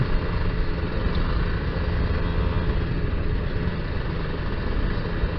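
A Kawasaki Ninja R two-stroke running on its original carburetor, tuned rich with a rough, gurgling low end, idles in a steady, dense drone at close range with no voices.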